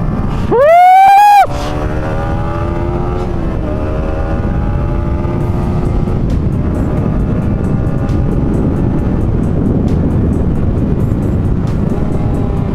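A Yamaha MT-15 motorcycle at high RPM on a track screams through a rising rev, then drops as it downshifts with the slipper clutch working, then drones on under loud wind buffeting.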